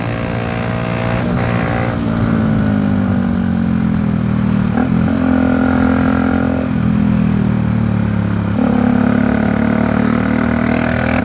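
Bajaj Dominar 400 motorcycle engine revving hard through the gears while riding, loud close rising drone that drops briefly at each shift, steady wind rush underneath.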